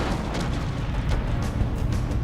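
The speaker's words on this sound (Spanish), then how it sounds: "la zona quedó ensordecida por una serie de 4 grandes explosiones" Deep, rumbling boom of a large volcanic explosion from the Krakatoa eruption, a continuous heavy low roar with faint crackling bursts layered over it, no voices.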